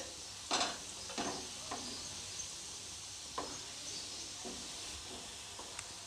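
Jamun balls fry in hot oil and are turned over, a soft steady sizzle broken by several brief stirring and scraping bursts, fairly quiet and with no speech.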